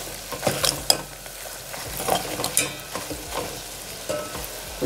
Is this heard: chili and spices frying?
yes